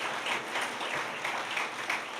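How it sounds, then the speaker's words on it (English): An audience at an indoor public service award ceremony gives a steady, moderately loud round of applause with no voices over it. "Caitlin got a good round of applause"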